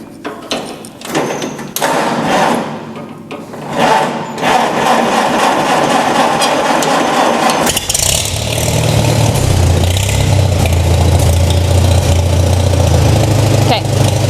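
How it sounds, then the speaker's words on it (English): A tractor engine with a 6-volt system cranks and catches, then settles into a steady, loud low idle rumble that continues to the end, with a voice speaking early on. "so I'll start the tractor"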